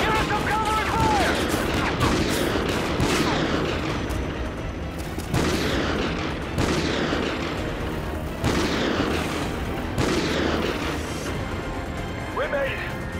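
Dense gunfire and booming blasts in Call of Duty: Ghosts. Repeated bursts and explosions run under shouted voices and continue steadily throughout.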